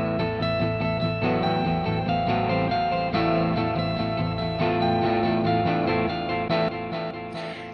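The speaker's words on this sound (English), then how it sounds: "we're going to hear these two tracks and the delay on this track, which sounds like this." Electric guitar tracks played back through a delay effect in home recording software: dense, continuous distorted chords with repeating echoes smearing each note, steady and loud throughout with no talking.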